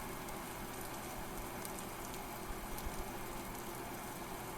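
Steady rain falling in the video game Vintage Story, a soft continuous hiss of drops at low volume with no talk.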